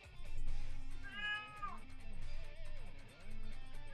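A cat meows insistently up close, several drawn-out rising and falling cries in a row with short gaps, loud against a faint room background.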